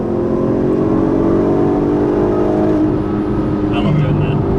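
A 2008 Volkswagen R32 all-wheel-drive car accelerates at full throttle, its engine droning loudly and steadily from close inside the cabin, with a rising tone near the end.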